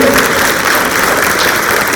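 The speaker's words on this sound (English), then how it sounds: "one more clap up for Burl Henry Elementary School" Applause for Burl Henry Elementary School at a school board meeting, a dense, loud, continuous wash of clapping from a crowd lasting about two seconds with no talk over it.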